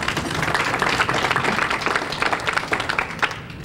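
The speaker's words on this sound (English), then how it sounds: "Y'all clap for Ms. Jackson." A crowd applauds, dense rapid clapping filling the space and slowly thinning toward the end.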